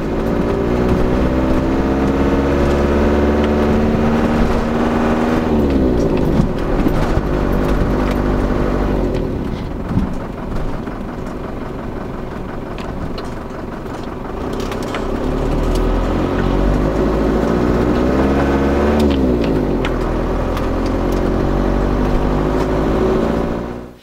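A Ford Transit van with an MT75 gearbox drives on a test run, its engine droning loudly inside the cab, rising and falling as it accelerates and shifts through gears, with no talking.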